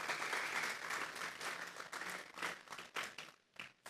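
A church congregation breaks into applause, a dense, sustained burst of many hands clapping that thins into scattered claps toward the end.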